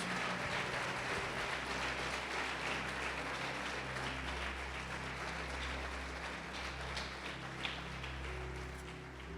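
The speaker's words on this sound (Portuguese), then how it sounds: "Pode aplaudir" A church congregation applauding during a sermon, a faint, continuous patter of clapping in a reverberant hall over a steady low hum, with no voices standing out.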